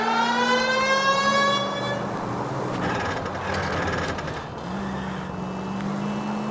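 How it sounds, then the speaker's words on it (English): A wailing police car siren in the game LA Noire rises and falls over the rumbling engine of a speeding car, loud and close, with a brief dip in the middle. "Please, Phelps, the siren."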